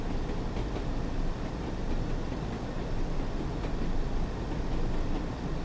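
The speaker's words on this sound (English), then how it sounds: "I love the clickety-clack sound." Train wheels roll along the Tees Valley Line in the Train Sim World 2 game, a steady, moderately quiet rumble of rail noise with a soft rhythmic clatter and no voices.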